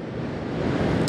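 Ocean waves surge and break near a lighthouse, a steady, loud, broadband roar of surf that builds slightly toward the end, with some wind rushing across the microphone and no voices.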